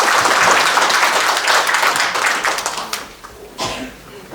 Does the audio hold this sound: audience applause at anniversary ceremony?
yes